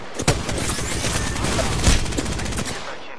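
Rapid bursts of video game gunfire crackle continuously, loud and close, with a few heavier shots punching through the dense volley.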